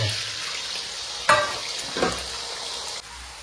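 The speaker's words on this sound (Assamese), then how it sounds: "ডিমখিনি ধুনীয়াকৈ ভাজি ল'ম" Eggs sizzle in a hot pan with a constant hiss, broken by two or three sharp clinks of a utensil against the pan.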